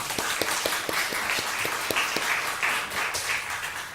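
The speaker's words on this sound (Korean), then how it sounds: "박수." A church congregation at Munmak Peace Church claps together in a sustained round of applause, with sharp individual claps standing out at a fairly regular pace against the steady patter.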